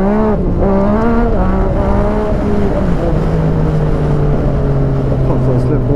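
A Yamaha MT-09 motorcycle engine revs hard and climbs through rising pitch sweeps, loud and close, settling into a steady high drone.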